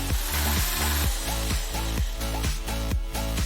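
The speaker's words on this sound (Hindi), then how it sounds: "अब एक इलेक्ट्रिक ड्रिल से बीच में एक छेद करें।" An electric drill boring a hole through the middle of a tuna can gives a close, rhythmic grinding, roughly two pulses per second of scraping bursts, continuous and loud with no voices.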